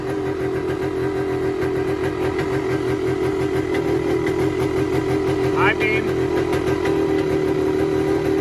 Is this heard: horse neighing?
no